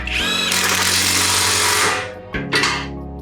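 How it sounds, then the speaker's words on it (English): A Hercules 20-volt 1/2-inch cordless impact wrench runs in one loud, close burst of rapid hammering for nearly two seconds, then gives two short follow-up bursts. "Got this new Hercules 1/2-inch impact."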